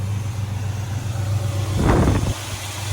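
A 1968 Chevrolet El Camino with a 396 big block V8, headers and an Edelbrock four-barrel carburetor idles with a deep, steady rumble close by, then gives one short rev before settling back.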